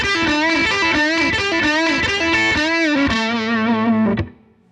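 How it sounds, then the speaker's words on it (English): Electric guitar played through an amp, a loud, overdriven standard rock lick with sustained bent notes and quick phrasing, ending on a held chord that decays after about four seconds. "having this guitar and this amp makes me sound a little bit more like him when I play a simple kind of standard rock lick like this"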